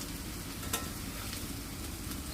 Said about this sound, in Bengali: এবার এগুলোকে উল্টে নেব দেখুন সুন্দর করে এই পাশটা ভাজা হয়ে গেছে